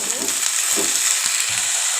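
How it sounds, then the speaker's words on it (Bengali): Bitter gourd fries with onions in a hot pan, a dense steady sizzle with a few soft stirring scrapes, close up. "পিঁয়াজটা ভাজা হয়ে গেছে করলাগুলো দিয়ে"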